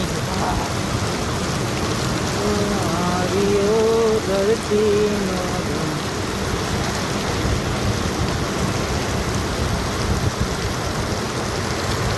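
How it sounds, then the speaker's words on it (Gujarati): Heavy rain pours down in Babra during a windy storm, a loud continuous roar of water on surfaces with a brief voice rising over it early on before the downpour carries on alone. "વરસાદ પણ બહુ પડી રહ્યો છે બાબરાની અંદર અત્યારે"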